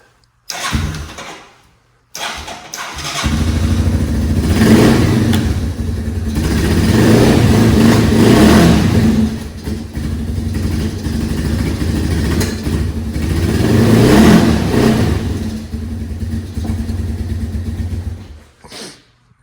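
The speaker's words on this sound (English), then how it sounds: "Let's see, give it a little rev." A cold 1987 Yamaha Moto 4 200 ATV engine starts, then idles and revs in rising and falling surges, loud and close, before cutting off abruptly near the end with no talking.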